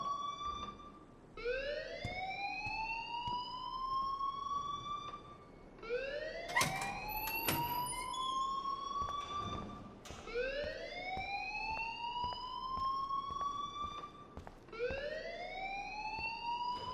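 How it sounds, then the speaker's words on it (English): A school alarm in the video game Life Is Strange wails in repeated rising sweeps, four long siren-like cycles of about four seconds each, steady and clear with occasional faint clicks between them. "please turn off that alarm since that's your job"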